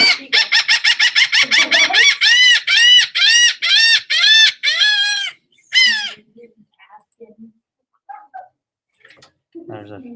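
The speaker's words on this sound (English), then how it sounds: "Anybody need more time on the laughing gull?" Laughing gull calling: a rapid run of loud, nasal, descending laugh-like notes, then a few spaced longer calls fading into scattered faint notes near the end.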